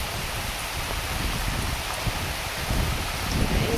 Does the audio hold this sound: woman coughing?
no